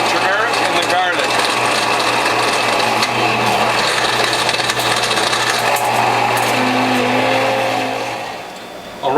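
A WHF Norwalk juicer grinds carrots and greens with a constant, close mechanical whir and rattling churn that eases off near the end, with a voice speaking over it.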